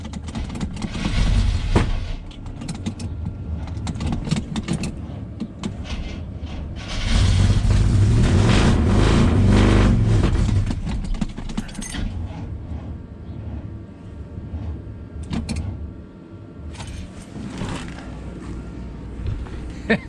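Chevrolet squarebody truck with a weak battery being cranked, the starter and engine churning loudly in long bursts with pauses between attempts.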